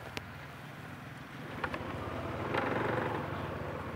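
Riding a motorbike with a foam wind muffler on the microphone: a low, steady engine drone with muted wind rush that swells gradually, plus a couple of small knocks from the loose mount.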